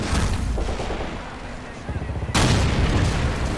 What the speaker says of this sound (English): Sucks firing at that AT gun with the tank.